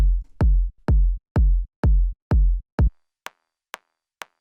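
Deep, boomy low layer of a layered progressive techno kick drum, 808-style, struck six times in an even beat with each hit dropping in pitch, followed by three short, higher clicking hits; loud and close with no talking.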